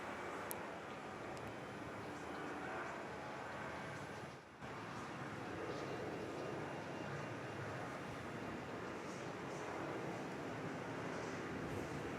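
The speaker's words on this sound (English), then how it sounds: "Okay, National Jet 830 clear for takeoff now." National Jet airliner on its takeoff run at Perth Airport, a steady broadband jet roar held at constant loudness throughout, heard from a distance with no talk.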